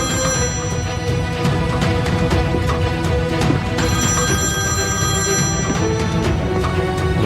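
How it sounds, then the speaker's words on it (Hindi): A telephone rings over a dense, steady wash of background music or noise, the ringing tones running continuously throughout at moderate loudness. "दुआ का फोन है।"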